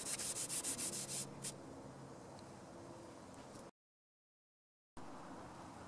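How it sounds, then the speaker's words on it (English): A dishwashing pan scrubber scrapes dry over a surface in a steady, close, gritty rubbing that opens with quick rhythmic strokes, breaks off into a second of silence, then resumes, faint and continuous. "I'll just scrub it down with this thing. Dry scrub it."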